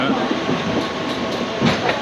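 Steady rumbling of a train at a station in Tamil Nadu, India, with a rolling clatter of wheels, fairly loud and continuous throughout.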